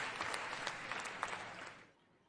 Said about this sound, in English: we'll just stop and give it a round of applause